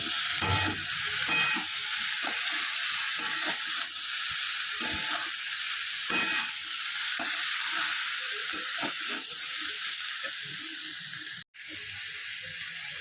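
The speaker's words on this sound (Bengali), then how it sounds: "পরে পেঁপেটা এবারে ভালো করে কষাচ্ছি" Papaya curry sautéed with spices in a pan gives a steady close sizzle, broken by repeated scraping stir strokes, with a brief dropout near the end.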